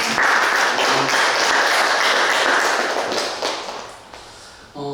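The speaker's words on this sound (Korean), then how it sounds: "우리 감사하는 하나님께 영광의 박수 올려드립니다" A church congregation at a Sunday service claps loudly together in a dense burst, holding steady before fading out near the end, where a short tone enters.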